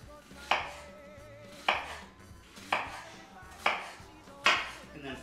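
A knife chops an onion on a cutting board in five sharp, evenly spaced thuds about a second apart, close and crisp, each fading quickly, with no talk.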